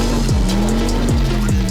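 An old 1980s Lego wind-up crank car runs after being wound with a key, its spring motor giving a steady close whirring buzz with repeating sweeping pitch changes as it rolls.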